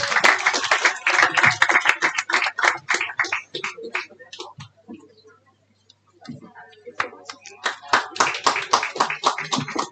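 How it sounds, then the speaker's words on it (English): Applause for two cadet certification recipients at a secondary school graduation ceremony, a burst of clapping that fades into a quiet gap before clapping picks up again, sharp and fairly close. "Let's applaud our two recipients for the cadet certification."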